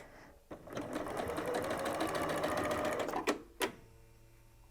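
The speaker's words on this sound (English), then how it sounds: "we'll take those to the machine and sew" Sewing machine chain piecing quilt fabric scraps: a steady close whirring run of stitching for about three seconds, then a couple of sharp clunks and quiet.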